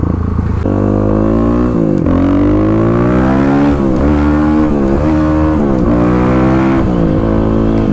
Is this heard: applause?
no